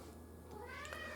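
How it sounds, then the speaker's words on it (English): A cat gives a single faint, drawn-out meow in the background over a steady low hum. "sorry about the cat noises in the background."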